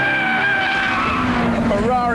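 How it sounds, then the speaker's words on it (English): Ferrari 355 on a race track, tyres skidding and squealing with a loud, steady engine roar throughout, the pitch sweeping and wavering toward the end; a voice may be faintly present underneath. "A Ferrari for the day, and it's just got to go on the track."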